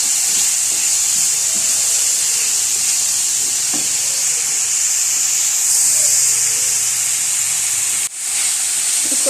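Chopped tomato, capsicum, cabbage and green chillies frying in a pan, a continuous loud hiss and sizzle with faint stirring scrapes, no talking.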